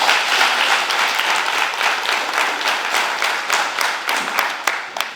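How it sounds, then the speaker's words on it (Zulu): An audience at a farming event at KwaCele applauds Mshazi with loud, dense clapping that holds steady for several seconds, close and without voices over it. "Ngiyacela ukuthi ke simshayele ihlombe uMshazi."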